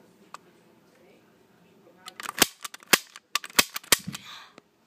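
Toy guns firing during live-action Call of Duty Modern Warfare 3 play: after a quiet start with a faint click, a burst of sharp cracking pops comes in irregular rapid succession, close and loud.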